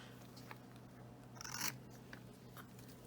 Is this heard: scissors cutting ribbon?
yes